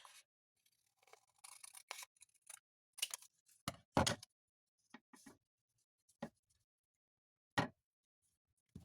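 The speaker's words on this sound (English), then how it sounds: "I'll cut it about right here." Scissors snip through a junk-mail master board in a handful of sharp, close, separate cuts with quiet gaps between them, no talk.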